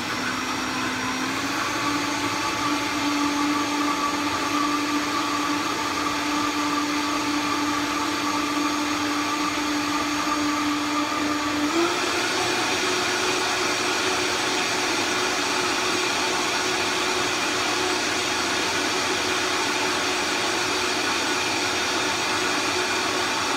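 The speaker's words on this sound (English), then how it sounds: "Vitamix rules." A Vitamix blender running continuously while making a morning smoothie, a loud steady motor whine that jumps to a higher, harsher speed about halfway through and holds there with no voices.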